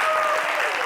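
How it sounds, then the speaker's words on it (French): A television studio audience breaks into applause to send off a guest on an entertainment show. The clapping is brief and dense, with a faint tonal sound running under it. "Allez, on t'accompagne avec des applaudissements."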